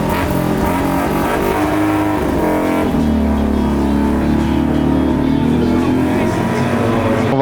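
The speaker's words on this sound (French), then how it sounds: "La voiture elle a donc repris la piste pour le dernier tour" A Citroën 2CV race car on its final lap of a 24-hour endurance race drones loudly and steadily, its engine note holding close and continuous throughout without a break.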